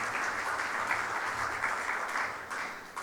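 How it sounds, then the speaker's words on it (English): A conference audience at an international tax event in Dubai gives a sustained round of applause: dense, steady clapping from many hands at a fairly even level for about three seconds, easing slightly near the end. "Let us have a big round of applause for Mr."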